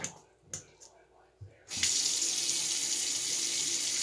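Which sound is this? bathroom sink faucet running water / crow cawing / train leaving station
bathroom sink faucet running water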